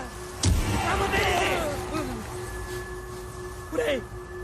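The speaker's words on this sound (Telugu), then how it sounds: "పేలింది గుమ్మడికాయ కదా" A pumpkin bursts as a film sound effect: a sharp, heavy thump followed by a crackling, whooshing tail that fades, then a smaller swirling burst near the end.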